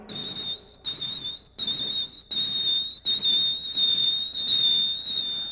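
A performer whistles an imitation of a car indicator, a steady high tone broken into about seven rhythmic pulses of varying length, loud and close with no talking.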